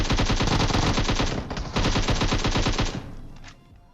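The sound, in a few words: gunfire in the video game PUBG Mobile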